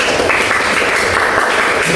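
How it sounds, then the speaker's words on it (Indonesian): Students in a classroom applaud together, a steady dense wash of clapping at close range, loud and unbroken for the whole stretch. "Tepuk tangan semuanya."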